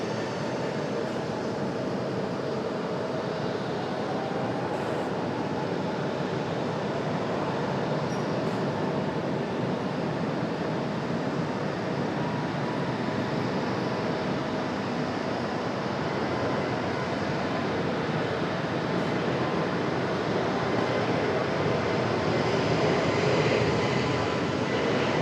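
An Air Canada Jazz airliner lands on runway 23 right at Raleigh-Durham International Airport, its steady, broad engine roar sustained at a moderate distance for the whole stretch with no voices.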